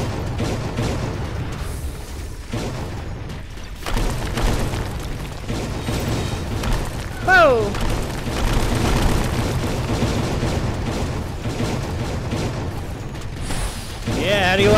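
Explosion of an enemy building in the video game Dead Shot Heroes, a booming blast rumbling through dense game noise with speech and effects layered over it.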